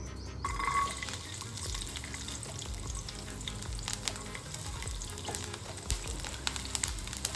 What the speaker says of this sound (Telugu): కొంచెం ఆయిల్ వేసా అది వేడెక్క ఫస్ట్ వెల్లుల్లిపల్లి వేసుకోవాలి